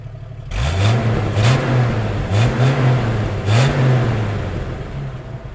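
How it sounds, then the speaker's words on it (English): A Jeep Wrangler's engine revs repeatedly from behind the vehicle, the exhaust note rising and falling in several loud surges with a deep rumble, close and without talk. "Let's also turn the heat off, get some revs. I'll set up the camera behind so you guys can get some exhaust sounds"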